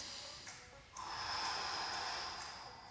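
Heavy rhythmic breathing during a bodyweight full-body home workout, a noisy exhale then a longer drawn breath, close and fairly loud with no talking.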